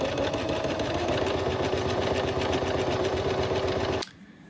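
A sewing machine stitches a folded felt toy pizza piece, its fast steady motor whir and rapid needle rhythm running loud and continuous for about four seconds before stopping abruptly, with no talking.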